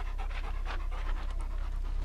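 A dog pants rapidly and steadily up close on a snowy hike, a continuous rhythmic huffing with no pauses and no talking.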